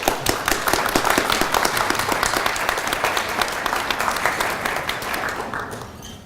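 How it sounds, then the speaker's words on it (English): Audience applause at a Georgian Bay Association presentation on cage aquaculture: dense, steady clapping from a room full of people, sustained for several seconds before thinning out and fading at the end. "I think we should give them a round of applause"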